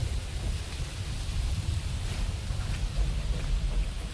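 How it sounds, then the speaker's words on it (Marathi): Soft, steady patter of light monsoon rain in a village, with low rumbling wind noise throughout, no voices. "आता थोडासा पाऊस यायला लागलाय"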